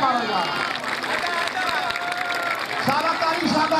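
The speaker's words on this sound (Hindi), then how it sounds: "जोरदार ताली मारो यार" Crowd at a kabaddi match in Berkhur claps and cheers steadily throughout, a dense continuous wash of applause and hubbub with voices mixed in.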